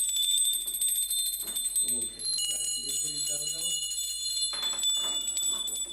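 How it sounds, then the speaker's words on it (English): Hand bells rung by many worshippers during a puja at a birthday celebration, a dense continuous high ringing throughout while someone speaks over it. "And now ring your bell, please."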